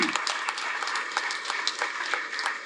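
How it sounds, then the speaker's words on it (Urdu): Audience at a book launch ceremony breaking into brisk, steady applause for Rescue 1122 emergency service, a short burst of moderately loud clapping with no talk. "اور 1122 کو تو ہم زوردار تالیاں بجا دیں گے"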